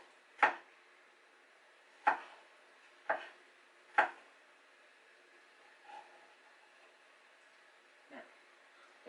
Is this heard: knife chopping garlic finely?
yes